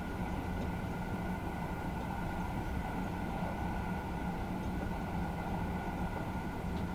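A TGV high-speed train runs in Train Simulator 2022 on a route to Strasbourg. It makes a steady, unbroken rumble and hum with a faint tonal whine, with no talk.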